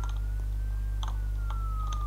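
A police siren wails steadily in the BeamNG.drive driving game, a thin rising and falling tone held under a constant engine drone with a few faint clicks and knocks.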